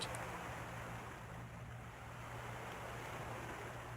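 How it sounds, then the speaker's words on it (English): Ocean waves in the video game Desktop Explorer wash in as a steady, soft surf roar, with a low constant hum running underneath throughout. "Your pulse slows down with the soothing sound of the ocean waves."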